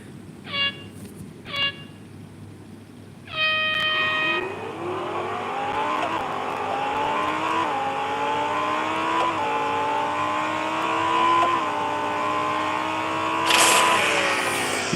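Race cars launch off the start line in the mobile racing game Real Racing 3: a few short engine blips, then loud, rising revs climbing through gear shifts with continuous engine roar, no talking.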